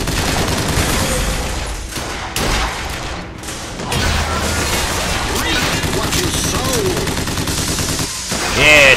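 Gunfire in the video game Bioshock Infinite: loud dense bursts of rapid shots and booms over busy game noise, continuous throughout.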